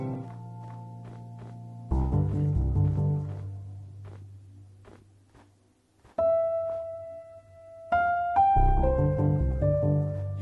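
A track from the Minecraft video game soundtrack plays soft, sparse piano-like notes over low sustained tones, with gentle swells and pauses between phrases. The music is quiet and mellow, and no voices are heard.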